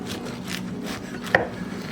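A knife saws across a thick bacon steak in a few soft, rasping strokes, ending with one sharp click near the end. The sound is quiet and close over a low room hum.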